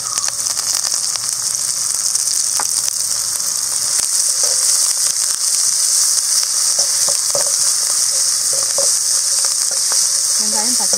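Onions and green chilies fry in a pan with a loud, steady hiss of sizzling oil, close and continuous, broken by faint occasional stirring scrapes.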